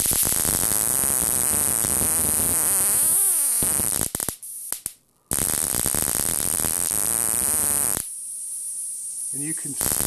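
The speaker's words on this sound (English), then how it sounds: "You might be able to hear it hissing." An electric force and magnetism demonstration device gives off a loud, steady broadband hiss that cuts out briefly mid-way, then returns more faintly, with brief voice sounds near the end.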